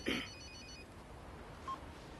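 A telephone rings once with a short electronic trill at the start, followed by a faint second tone, quiet and brief against a low background.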